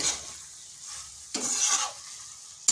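A spatula stirs a vegetarian cabbage curry with green chillies and a pinch of sugar in a hot pan: a steady close sizzle with scraping strokes that swell and fade, and a sharper knock at the end, with no talking.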